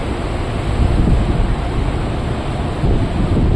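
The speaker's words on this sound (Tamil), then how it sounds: "காற்று கிடையாது கூலிங் காற்றே வருது ஏசி தான் இது" Cool air blowing steadily from a large air conditioner pipe on a rooftop in Medina, a constant broadband rush with slight gusting and no talk.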